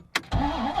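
A Dodge Viper's engine cranks with a short starter whir, then catches and settles into a steady, deep idle close by.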